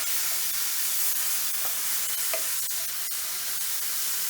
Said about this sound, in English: lift it up from the heat and carry on mixing. And just use that heat you've got to carry on cooking those mushrooms